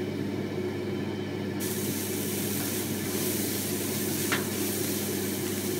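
Onions sautéing with salt in a pan for South Indian lemon rice, a steady, close, even sizzle and hiss that continues without pause and with no talking.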